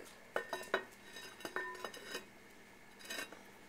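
A metal lid is set onto a pot of chili lowered to a simmer: a few close, bright clanks and clinks of metal on metal, then a softer rattle as it settles before quiet.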